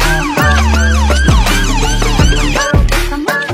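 An ambulance siren wails in repeated rising and falling sweeps over loud music with a steady bass, filling the whole stretch without pause.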